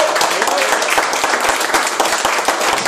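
An audience at a football club fan gathering claps steadily, a dense, loud wash of applause filling the room with many hands at once, a voice faintly under it.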